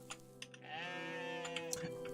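A goat bleating in the video game OneShot, a sustained wavering bleat of about a second, faint and heard over a quiet background hum with scattered clicks.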